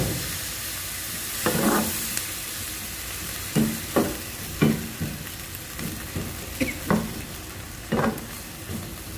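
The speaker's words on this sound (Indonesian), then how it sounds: "Kita tambahkan sedikit air." Baby squid sizzling in a pan as a little water is added, a constant hissing fry punctuated by a series of sharp crackling spits and stirring bursts, close and loud with no voices.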